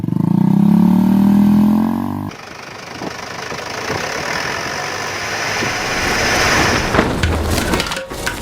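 A motorcycle engine roars loudly up close, then a broadband rush of speed carries through several seconds as the bike races along the road, loud and continuous with no talk.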